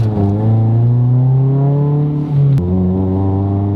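A Honda Civic engine pulls hard under acceleration, its steady rising drone near and loud, with a brief dip and a sharp shift partway through before the revs climb again.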